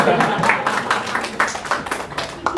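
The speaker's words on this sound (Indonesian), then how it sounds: "Tepuk tangan dulu" Audience applause at an Indonesian talk blending technology and religious teaching, a dense run of clapping with sharp individual claps standing out, steady and fairly close, with voices mixed in.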